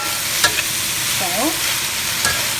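Zucchini being stir-fried in a pan, with a steady soft sizzle throughout, a few faint utensil scrapes and clinks, and no voices.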